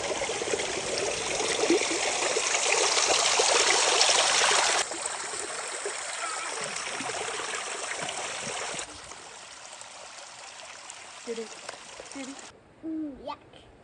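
Clear stream water flows in a steady, close rush that later softens and drops away, with a voice and a few faint calls near the end.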